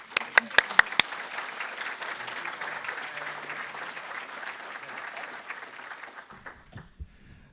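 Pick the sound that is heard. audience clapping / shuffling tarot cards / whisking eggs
audience clapping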